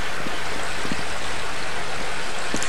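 Steady rushing water from a waterfall in the Half-Life: Blue Shift video game, a continuous broadband hiss with faint gurgles and no voices.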